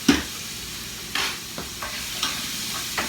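Vegetables seasoned with salt and pepper are stirred in a sizzling pan for shepherd's pie, a steady frying hiss punctuated by about six sharp utensil scrapes and clinks at uneven intervals.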